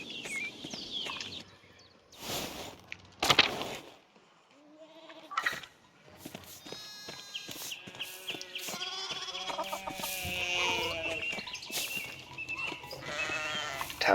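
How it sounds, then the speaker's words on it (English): A flock of sheep in the game Pentiment bleats repeatedly, several overlapping nasal calls near and far, with brief gaps between bursts of animal cries and no talking. "Oh boy, it's all these sheep again."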